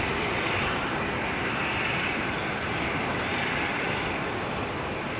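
Boeing 737-800 jets at Brisbane Airport, one arriving and one departing, give a steady, fairly loud broadband engine roar that holds level throughout with no gaps.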